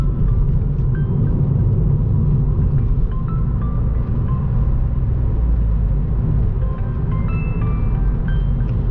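Interior drone of a 2010 Kia Forte Koup SX with automatic transmission cruising, a loud, steady low rumble of engine and road noise with no talking and faint high squeaks over it.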